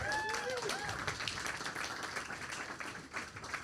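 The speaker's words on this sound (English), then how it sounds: "Another round of applause for Lili." Clapping from a community forum audience, a moderate burst of applause somewhat distant, mixed with some faint voices and room noise.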